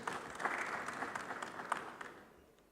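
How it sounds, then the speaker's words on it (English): A conference crowd at the Afreximbank Annual Meetings applauds as a speaker steps forward, sustained clapping with a few sharper claps that gradually fades toward the end. "Please a round of applause for him as he steps forward."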